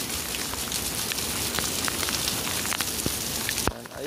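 Heavy rain pouring on a street in Jeddah, Saudi Arabia, a dense continuous patter and splash close by that stops abruptly near the end.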